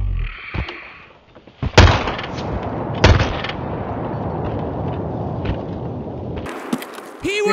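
Escape from Tarkov gunfire, a couple of sharp loud shots followed by a sustained rumbling barrage and scattered further cracks, continuous and close.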